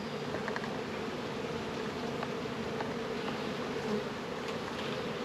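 Honeybees buzzing around an open hive frame during an inspection, a dense steady hum of many wings close by, continuous and even with no voices.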